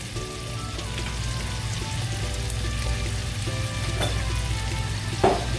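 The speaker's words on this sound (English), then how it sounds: "butter or oil so your garlic won't burn" Garlic frying in butter or oil in a pan makes a steady, close sizzle throughout, with a light knock of stirring near the end and no talk.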